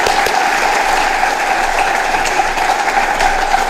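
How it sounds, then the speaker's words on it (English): A short stretch of continuous audience clapping at a state of the region address, dense and even throughout, with no voices. "Please, let's give His Excellency another applause of a clap"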